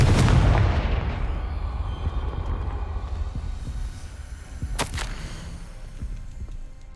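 A booming spell explosion in the Hogwarts Legacy video game, a loud blast that decays into a long rumbling tail, with a second sharp crack partway through, no speech.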